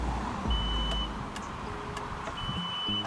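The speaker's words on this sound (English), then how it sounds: "as the sensor hits the top of the water below the ground, makes that beep" A water level sensor's thin electronic tone beeps steadily in two longer bursts as it touches underground water, over low, rumbling background noise.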